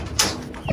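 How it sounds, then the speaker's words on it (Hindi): A pigeon lands close by with a short burst of wing flapping, a brief loud flutter followed by quieter rustling, no talking. "ये देखें कबूतर ना यहाँ पे फिर से आके बैठ गया"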